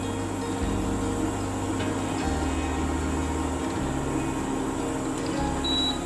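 Cooling fan of a Prestige induction cooker running steadily, a constant close whirring hum with a low droning undertone and no speech.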